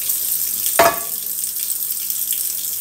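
Water poured into a hot pan after cooking meat bursts into one sharp, brief sizzle, then settles into a soft, steady hiss with no talking.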